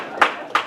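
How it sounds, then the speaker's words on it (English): Two crisp, unison claps from a banquet audience at a baseball and softball Hall of Fame event, spaced about a third of a second apart over a low room murmur. "And we'll do 2 claps for Cheryl because you got double tonight"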